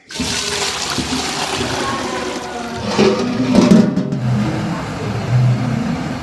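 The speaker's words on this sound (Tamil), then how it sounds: "இப்போ வந்து தண்ணி நல்லா கொதிச்சிருச்சு." A large pot holding about ten litres of water at a rolling boil, heated for cooking lentils for wedding-style sambar, gives a continuous rushing, bubbling roar that swells slightly midway.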